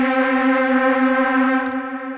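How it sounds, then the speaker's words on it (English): Sustained, buzzy tone from an Elektron Syntakt synthesizer with a detune effect, rich in steady harmonics, holding level and then softening slightly at the end, with no other sounds. "I just want to have this nice detune effect."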